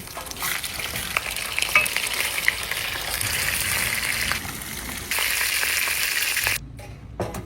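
Oxtail searing in a hot pan for an Egyptian tagine, a dense, loud sizzle with occasional crackles and scrapes that drops away abruptly near the end, no speech.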